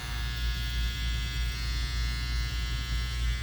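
Electric hair clippers fitted with a number 1 guard run steadily through a home taper haircut, a close, continuous buzzing hum with no talking.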